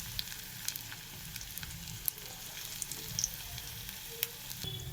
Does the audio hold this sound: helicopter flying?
no